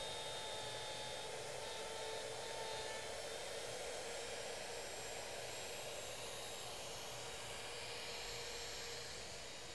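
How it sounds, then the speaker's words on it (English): A CNC router cuts while air blasts out of its dust port, making a steady, loud rushing hiss with a thin high whine that holds constant throughout, with no talking. "all the air is porting down and then shooting right out the dust port"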